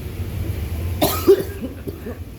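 A single person coughs once, a short, sharp burst close to the microphone, followed by faint murmuring in a quiet room.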